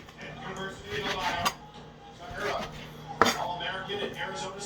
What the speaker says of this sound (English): Chop this one.